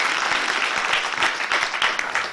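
Audience applause at a stand-up comedy show, a dense burst of clapping that fills the room steadily for a couple of seconds, loud and close, then begins to taper at the end.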